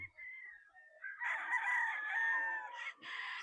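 A sweater claret cross gamecock lets out one long, loud crow close by, opening with a short lead-in note and ending with a clipped final burst, with no talk over it.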